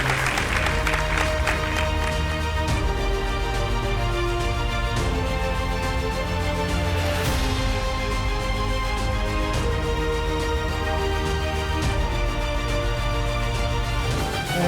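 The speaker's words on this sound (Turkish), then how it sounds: "alkışlarla sahneye davet ediyorum" An audience at a housing project launch ceremony in Sancaktepe applauds continuously while a guest is welcomed onto the stage, the clapping blended with loud background music.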